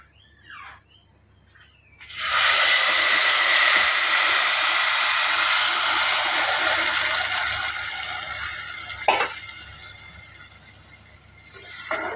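Sugar syrup hits hot ghee with two small cardamom pods in a pan and erupts into a loud, hissing sizzle. The sizzle stays strong for several seconds, then slowly fades, broken by a few brief crackling bursts.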